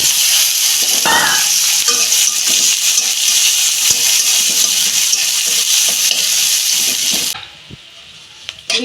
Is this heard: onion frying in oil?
yes